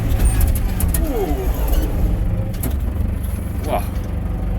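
A Case 885 XL farm tractor rumbles steadily up close with a low engine drone, braking to a stop with a brief squeal and hiss as the sound settles; a voice can be heard.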